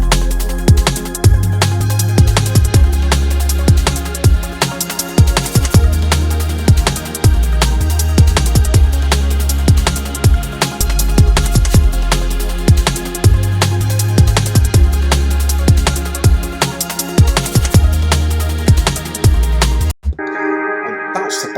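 A hook line on a piano sound reworked into a different tone plays over a full backing track, with a steady low bass pulse and rhythmic hits. It runs loud and continuous for about twenty seconds, then drops out abruptly.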